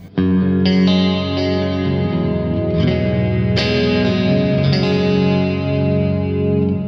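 A clean electric guitar, a Chapman ML-1 Pro Modern baritone on the bridge split through a PRS clean channel with Fathom reverb, plays sustained chords and single notes, each strum ringing into reverb, loud and close, no talking.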